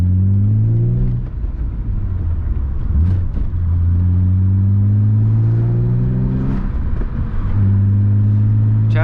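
A BMW E36 M3 fitted with a lighter flywheel drives along, its engine droning loudly and steadily from inside the car, with pitch climbing and dropping through gear changes.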